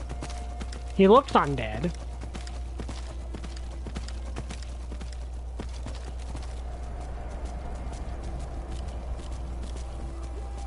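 Hoofbeats from a flaming undead horse in Skyrim, a steady soft clopping under a brief spoken remark and continuous game ambience.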